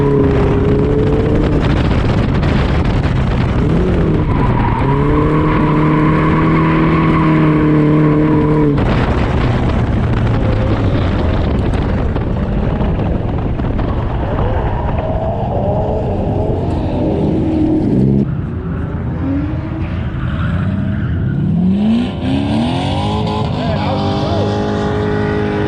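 A car drifting without power steering at a drift event, its engine revving loud and close with rising and falling pitch, shifting and surging between throttle bursts, with voices talking underneath at times.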